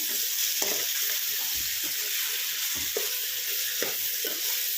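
Mutton fry sizzling and frying in a pan while being stirred, steady loud crackle with repeated scraping stir strokes throughout, no talking.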